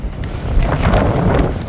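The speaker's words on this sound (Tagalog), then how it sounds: "Hangin." Strong wind buffets the microphone in a steady rumbling roar, with gusty bursts and no voices.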